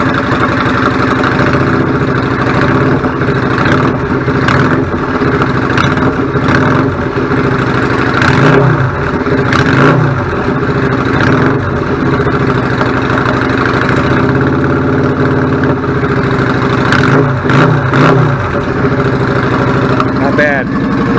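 A 1999 Yamaha V-Star 650 Classic motorcycle with a clogged pilot jet idles steadily with the choke off, a loud, close, continuous engine rumble with slight fluctuations while someone talks over it.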